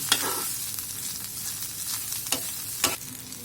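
Loitta dried fish frying in hot oil, a steady close sizzle with a few sharp scrapes and knocks of stirring, no talk.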